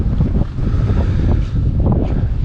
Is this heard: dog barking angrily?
no